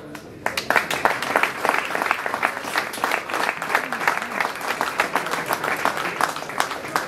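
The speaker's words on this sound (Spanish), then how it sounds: "Enorme aplauso para los capitanes de barrio, por favor" An audience at a ceremony for Argentine Olympic medallists applauds. Dense, steady clapping starts sharply and carries on for several seconds. A host's amplified voice speaks over the applause.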